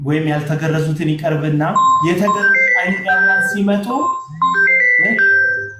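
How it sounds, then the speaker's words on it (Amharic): A phone rings with a bright, steady electronic melody of sustained tones that cuts in partway through and carries on beneath a man giving a continuous spoken lecture. "የሆነ ስልክ እየጠራ ነው።"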